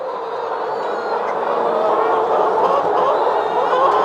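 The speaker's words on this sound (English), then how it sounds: "That is the sound of chickens that are laying eggs" Laying hens in a chicken house keep up a continuous chorus of clucking and calling, a dense, busy mass of overlapping bird voices that grows slightly louder.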